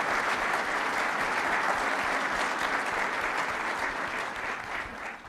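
A Chamber of Commerce luncheon crowd in Champaign breaks into steady, full applause, a thick continuous patter of many hands that stays level before tapering off at the close.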